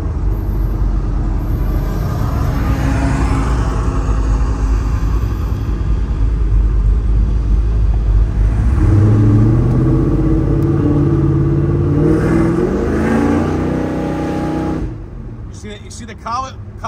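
A 1970 Chevrolet Chevelle V8 rumbles loudly and up close, its deep engine note rising as the revs climb in the middle before settling, with a sharp burst of noise at the end.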